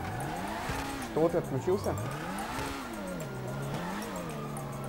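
A car drifts in GTA Online, its engine note rising and falling with some tire squeal as it slides. A player talks over the game sound.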